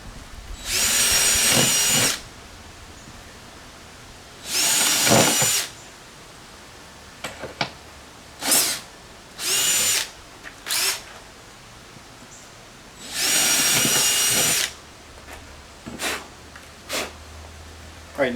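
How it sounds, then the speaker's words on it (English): A power drill with a 5/16 bit whines loudly drilling four holes in several bursts, three longer runs and a few brief ones, with quiet gaps of handling noise between. "We're just going to drill all 4 of these holes."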